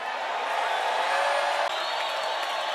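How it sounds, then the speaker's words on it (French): A church congregation cheers and shouts with joy, a dense steady wash of crowd noise holding at an even level throughout with a brief dip near the middle, no single voice distinct. "may it be filled with shouts of joy"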